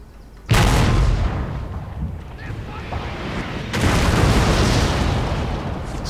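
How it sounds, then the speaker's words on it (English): Artillery fires in a Shogun 2 Total War battle: a loud boom opens, then a second heavy blast follows amid rumbling battlefield noise. "So I decided to shoot up here and nail his artillery again with my artillery."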